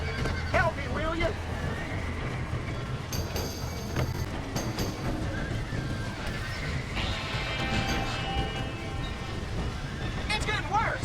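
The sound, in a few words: horses neighing in Red Dead Redemption video game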